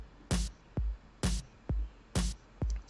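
A house drum pattern from a step sequencer, with a snare layered under a clap, hitting in a fast, even rhythm alongside punchy kicks, about six crisp hits in a row with no talking.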